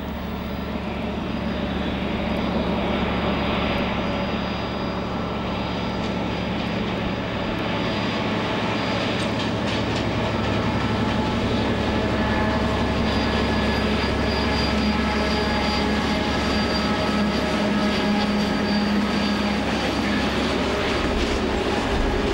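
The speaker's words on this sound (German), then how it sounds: "Bis zu ihrer endgültigen Abstellung versahen die schweren Dieselloks zuverlässig ihren Dienst." Heavy Taigatrommel diesel locomotive hauling a 2000-tonne coal train, a loud, steady and dense engine roar with rumbling wagons and faint wheel squeal running unbroken throughout, close by and with no talking.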